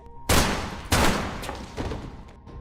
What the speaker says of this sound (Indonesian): Dua peluru bersarang di tubuh bos mafia ini.